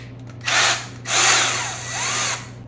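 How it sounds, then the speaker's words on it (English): A handheld power drill whirring through holes in the case of a rain barrel water pump setup, three close, loud bursts of the motor spinning up and winding down. "Another effective method is simply put your drill bit that you're going to actually drill the holes"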